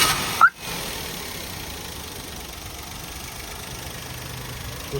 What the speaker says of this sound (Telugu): ఒకసారి ఇంజన్ ఆన్ చేయండి, చూసుకోవచ్చు సార్.